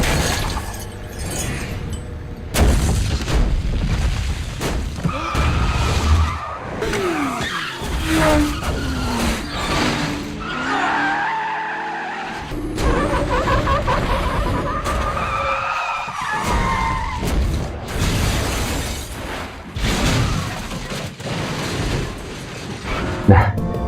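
A highway crash involving a log truck from Final Destination 2, with tires skidding and squealing, metal crashing and glass shattering in a dense, continuous chaotic pile-up, mixed with brief vocal sounds.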